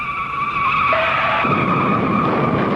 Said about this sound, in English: Chuck Wyatt and Mike McGill spin.